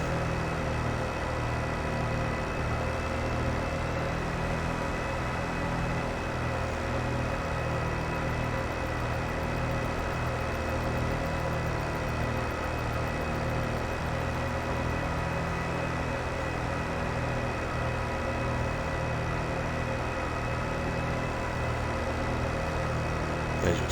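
A tractor engine in Farming Simulator 22 runs steadily on a lime-spreading setup, a constant low droning hum with even mechanical texture throughout, no talk.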